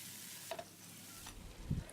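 Sliced okra (bhindi) frying over a medium flame gives a soft, fairly faint sizzle, broken by a few light stirring knocks and scrapes in the pan.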